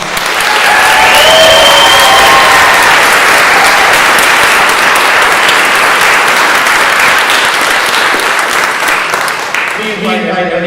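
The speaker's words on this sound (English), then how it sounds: "let me give our new Eagle Scouts one more round of applause" Loud, sustained applause from a large audience at an Eagle Scout court of honor, continuous clapping close by that fills the whole stretch, with a few voices calling out near the start before it tapers at the end.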